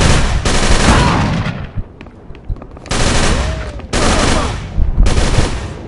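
Gunfire in the Call of Cthulhu video game: loud bursts of rapid shots, each lasting about a second or more, separated by short quiet gaps.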